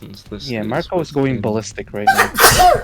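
A sharp sneeze bursts out near the end, right after a few seconds of someone talking during a Lancer tabletop role-playing game session.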